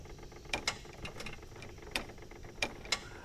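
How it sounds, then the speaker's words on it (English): Sharp tractor relay clicks from the front as the tractor is put in neutral, about five or six irregularly spaced snaps over a steady low engine idle. "when you get neutral, you get this relay click up front"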